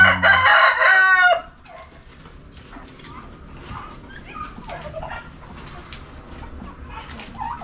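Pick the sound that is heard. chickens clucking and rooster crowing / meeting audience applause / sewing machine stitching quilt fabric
chickens clucking and rooster crowing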